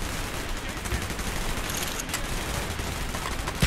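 Rapid bursts of gunfire in Call of Duty: Black Ops crackle continuously at a moderate distance, forming a dense, steady barrage with no pauses.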